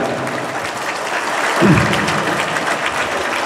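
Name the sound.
audience applause for the pesantren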